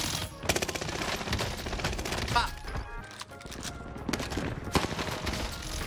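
Rapid bursts of machine pistol fire in the Warzone video game, dense and rattling almost without pause, with a voice talking over the shooting.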